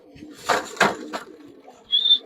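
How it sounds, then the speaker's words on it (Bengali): Pigeons released from a home loft and taking off: a couple of quick wing flaps and soft coos nearby, ending in a brief thin whistle-like tone, short and fairly quiet. "এতদিন পরে কবুতর ছাড়ছি।"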